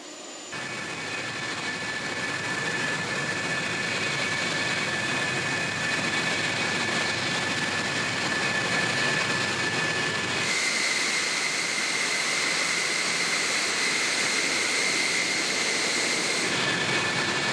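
An F-4 Phantom II jet roars loudly and steadily as it starts up and takes off, a harsh, continuous engine rush that shifts in tone partway through, close and with no voices.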